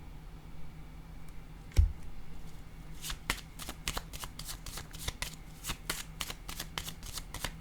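Tarot cards shuffled in quick, crisp riffling bursts, a steady run of sharp papery flicks close by, with a soft thump just before the shuffle picks up.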